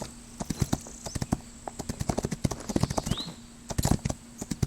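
Horse hooves trot in rapid, rhythmic clip-clops in the racing video game Rival Stars Horse Racing, steady and close with a faint tonal hum underneath.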